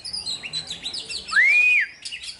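An oriental magpie-robin sings close by, a run of quick sweet chirps and whistled notes with one long clear rising-and-falling whistle in the middle, loud against a quiet background.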